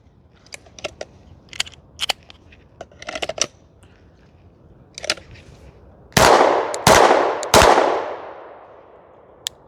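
Glock 19 Gen 6 pistol fired three times in fairly quick succession, sharp loud close shots with ringing decay, after several seconds of scattered small handling clicks and rattles.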